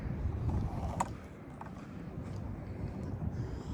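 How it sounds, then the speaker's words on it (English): Steady, heavy wind noise buffets the microphone throughout, a loud outdoor rumble with a few faint clicks and no clear voices. "It's windy as fuck right now."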